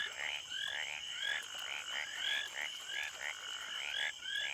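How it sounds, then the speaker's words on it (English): Frogs croaking in a natural setting, a steady chorus of repeated, rhythmic calls at moderate distance, fairly quiet and with no voices. "amphibians, namely frogs and toads, who are reputed to croak louder before rainfall"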